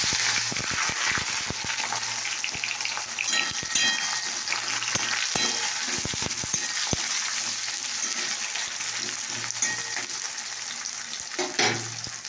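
Chopped onion frying in oil with cardamom, cinnamon and bay leaf, a steady loud sizzle with occasional stirring scrapes and clinks, no voices.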